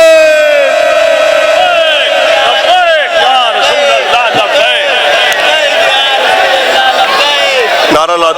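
A large crowd at a religious gathering at Awan Sharif chants the Labbaik slogan to welcome an arriving scholar; loud, massed voices rise and fall in rolling shouts throughout.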